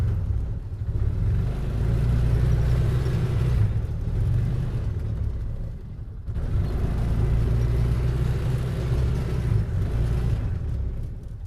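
Polaris Ranger UTV driving in rear locked differential mode, its engine a steady close rumble and whir that dips briefly twice before rising again, with no voices.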